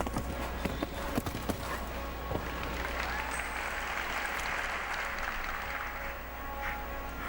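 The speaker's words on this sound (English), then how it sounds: "a big round of applause from the crowd" Applause from a large crowd fills a show jumping arena at an international World Cup final, a steady continuous wash of clapping with a few sharper hoof-like knocks and thuds mixed in early on.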